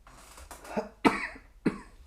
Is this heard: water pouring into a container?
no